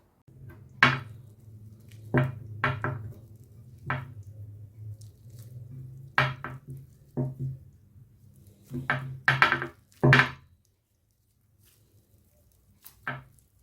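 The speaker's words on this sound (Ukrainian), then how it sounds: "я його перемішаю до нужної консистенції, вимішую, так сказати, у тісто таке круте" Stiff, yellow bait dough for crucian carp being kneaded by hand, a series of soft squishing and slapping presses in irregular bursts, fairly close, with a quiet pause near the end.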